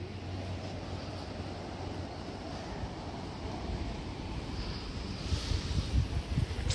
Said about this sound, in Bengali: সমুদ্রের আওয়াজ দেখছিস?